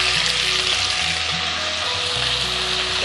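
Washed field beans (avarekai) hit hot oil in a pan and sizzle loudly and continuously with a steady hiss and light stirring, close up, without talk.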